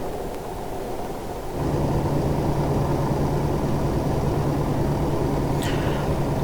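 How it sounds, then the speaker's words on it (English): Volvo truck engine in Euro Truck Simulator 2 straining uphill, a loud steady drone that swells and settles into a constant hum, heard alone. "And just like any other truck, the Volvo also has trouble getting uphill."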